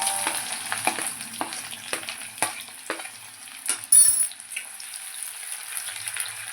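Onions frying in mustard oil with whole cumin, bay leaf and whole garam masala in a pan give a steady sizzle, broken by several sharp stirring clinks and scrapes.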